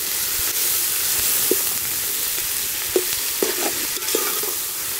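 Chili powder, a handful of coriander and a handful of mint frying in oil for goat intestine biryani, giving a steady close sizzle with a few stirring scrapes and clinks, no talk.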